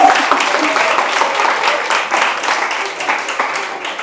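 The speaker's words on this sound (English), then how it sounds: "Hey, can we get a round of applause?" A crowd applauds in a steady, dense wash of clapping that fills the whole stretch, fairly loud and close.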